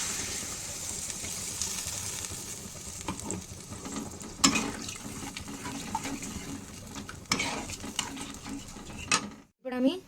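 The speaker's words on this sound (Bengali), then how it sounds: "এরপর আমি এর মধ্যে দিয়ে দেবো ওই মশলা ধোয়া জলটা।" Spice-rinse water goes into potatoes frying in a pan, bringing a steady sizzle with stirring clatter and a few sharper hissing bursts, then a brief silence near the end.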